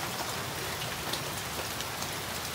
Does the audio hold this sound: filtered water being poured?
no